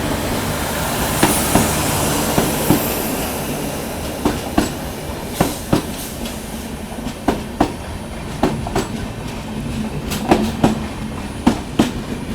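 An express train hauled by a Bhusawal shed WAP-4 electric locomotive rolls along the Konkan line in the monsoon, its wheels beating out a steady clickety-clack over a continuous rumble, heard close and fairly loud.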